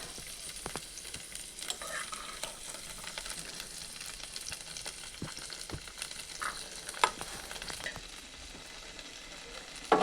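Green peas, green chilli and ginger paste fry in a pan with oil, giving a continuous soft sizzle and crackle, with occasional scrapes and stirring knocks, close and without talk.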